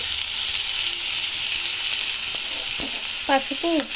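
Cluster beans frying in a pan with turmeric and salt, a steady close sizzle with occasional stirring scrapes and a short splash of stirring toward the end.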